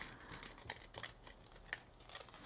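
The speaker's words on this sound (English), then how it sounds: "grab my scissors" Scissors snip through an old book page during a paper craft, giving a run of light crisp cuts and rustles close by, fairly quiet, with no talking.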